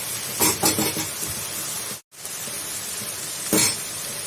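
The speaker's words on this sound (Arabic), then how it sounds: "ننزل عليها كده فلفل الالوان، تقليبها كده" Colored bell peppers being stirred into meat in a pan, giving a soft frying sizzle with scraping spoon strokes and light clinks against the metal, steady and close, with a brief break midway.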